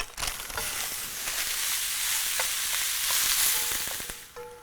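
Lamb mince browns in a hot pan with a loud, constant sizzle, punctuated by scraping and clinking of a utensil stirring the meat near the end.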